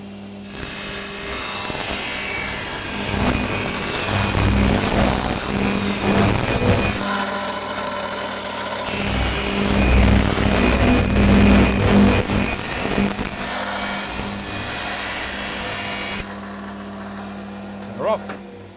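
A bandsaw with no blade brake runs steadily as a cut is made on solid wood edging for melamine board, then winds down slowly after switch-off, a continuous close whine under intermittent talk that fades near the end.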